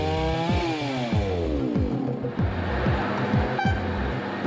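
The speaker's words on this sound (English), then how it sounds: "loggers go in with chainsaws and cut branches and limbs off the logs" Chainsaws cutting branches and limbs off felled logs in a logging operation, a loud continuous engine whine with repeated revving and falling pitch sweeps as the saws bite and ease off, with a brief high toot-like tone near the end.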